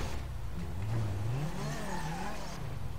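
A car engine in GTA 5 revs hard while climbing a ramp onto a car carrier trailer, a steady loud strained drone with rising and falling pitch sweeps throughout, no talking.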